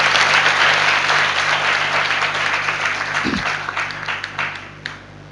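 A congregation at a church service breaks into loud, sustained applause that fills the room, then gradually thins into scattered claps.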